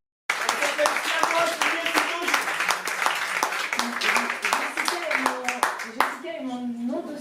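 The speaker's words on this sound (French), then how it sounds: "on applaudit très très fort Jessica" A crowd at an evening slam poetry event in Nice applauds a performer, the dense clapping running steadily for several seconds, then thinning out while voices carry on over it.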